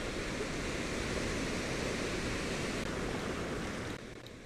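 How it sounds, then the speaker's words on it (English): Ocean surf sample used inside a beat, a steady broadband wash of rushing water with no distinct wave breaks, constant in level and then dropping slightly in volume near the end as it is faded out. "so this is just a random ocean sound, and I've just sort of brought it in and out where's need be."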